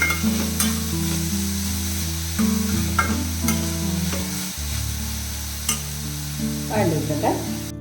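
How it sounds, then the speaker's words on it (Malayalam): Small onions and green chillies sautéing with salt in a pan, a close, steady sizzle with scraping stirs and clicks, while soft tonal music plays underneath. "കുറച്ച് ഉപ്പും കൂടെ ഇട്ട് കൊടുക്കുന്നു. ഒന്ന് വഴറ്റിയെടുക്കാം."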